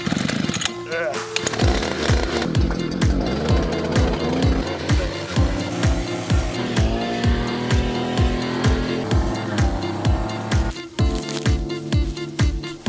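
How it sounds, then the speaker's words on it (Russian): A petrol brush cutter buzzes through reed undergrowth on a wooded island glade. The engine is loud and close and rises and falls in a steady rhythm of repeated sweeps. "Подлесок, состоящий в основном из камыша, расчистили с помощью мотокосы."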